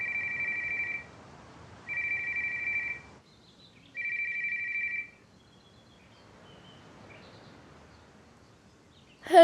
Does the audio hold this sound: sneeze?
no